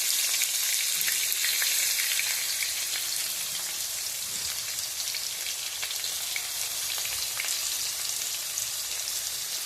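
Raw jackfruit sizzling in hot oil as it is stirred around the pan, a dense, steady crackle like rain that runs throughout, close and loud with no talking.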